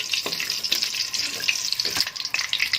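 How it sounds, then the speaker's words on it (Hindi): Whole spices fry in hot ghee for chicken karahi, a steady close hissing sizzle with a few soft stirring scrapes and no voices. "घी गर्म हो गया, हम इसमें ये साबुत मसाला शामिल करेंगे, इसको थोड़ा सा भूनेंगे।"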